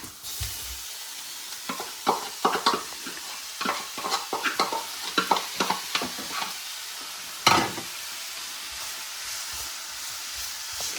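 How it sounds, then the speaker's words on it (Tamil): Canned fish frying in oil in a pan: a soft, continuous sizzle with irregular scraping and stirring clatters from a utensil, close and moderately quiet. "இப்போ அடுத்ததாக வந்து நாங்கள் மீன் டின் போட போகிறோம்."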